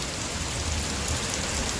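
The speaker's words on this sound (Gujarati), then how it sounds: "વરસાદ ધોધમાર પડે છે" Heavy downpour at night around eleven in July, a dense steady hiss of rain pounding surfaces, loud and continuous with no voices.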